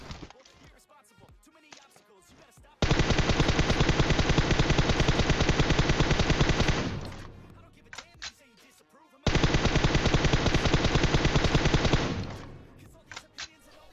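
Automatic gunfire in a battle royale video game: two long, loud sustained bursts of rapid shots, each several seconds, separated by a short pause with scattered lighter game sounds.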